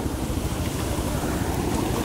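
A loud, continuous roar of rushing floodwater surges through a village where trees have fallen, with no voices over the churning flow.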